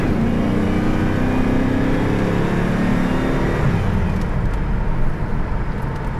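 A 1994 Pontiac Trans Am 25th Anniversary Edition with automatic transmission accelerates, its engine a steady loud roar that holds throughout, heard from nearby without speech.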